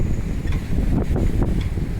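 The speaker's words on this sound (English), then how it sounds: "It's a little bit windy out here" Strong hurricane wind at Halifax harbour during Hurricane Lee, a continuous loud roar and buffeting against the microphone with no talking.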